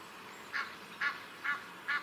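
Four evenly spaced honking calls from an Egyptian goose ring out one after another, moderately close, over quiet background.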